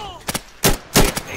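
Gunfire in the online shooter Insurgency: a quick double shot followed by two louder, heavier single blasts, sharp and close with brief echoing tails.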